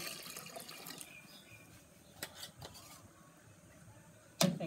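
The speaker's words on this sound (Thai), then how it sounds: "แม่ก็จะใส่น้ำปลาร้าไปเลยน้ำปลาร้านี้ก็ครึ่งโลเหมือนกัน" Fermented fish sauce (pla ra), about half a kilo, poured into a large pot of khilek curry, heard as a faint, steady liquid trickle and splash with a sharper splash near the end.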